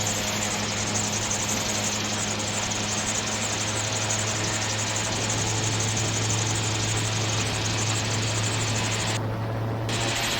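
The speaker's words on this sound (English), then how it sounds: "Starting to apply more power. Increasing the power." A light aircraft engine roars loudly and steadily as power is applied for takeoff, a continuous drone with propeller buzz filling the cabin and no voices.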